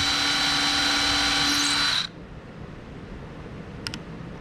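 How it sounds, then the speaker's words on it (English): Power drill boring hinge holes into a small cedar chest, a loud, steady high whine for about two seconds that cuts off abruptly, leaving quiet room noise and a couple of faint ticks. "So it could potentially go clear through if we drilled it too deep."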